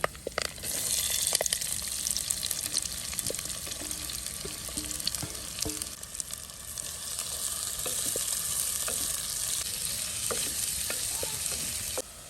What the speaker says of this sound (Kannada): ತೆಂಗಿನೆಣ್ಣೆ ಹಾಕ್ತಾ ಇದ್ದೀನಿ. ಕರಿಬೇವಿನ ಸೊಪ್ಪು, ಸ್ವಲ್ಪ ಬಿಸಿ ಆಗಲಿ ಎಣ್ಣೆ. 2 ಈರುಳ್ಳಿ,